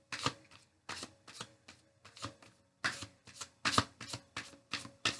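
Tarot cards being shuffled up close, a quick run of crisp riffling bursts in about ten separate clusters with short pauses between them; no talking.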